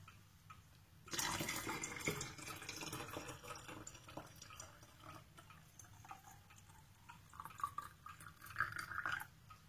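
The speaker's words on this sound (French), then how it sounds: "je rajoute mon eau bouillante" Boiling water poured into a container while making homemade yogurt in a Norwegian haybox cooker. A quiet, steady splashing stream begins after a brief silence and runs on continuously to the end, with no voices.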